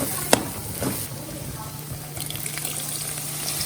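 Spices frying gently in a pan over a low flame for a tamarind curry, a soft continuous sizzle with a sharp clink near the start and scattered scraping stirs, no talking.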